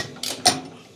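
Two quick metallic clicks of a tool tightening bolts on an Electrolux clothes dryer, close and distinct against a quiet background.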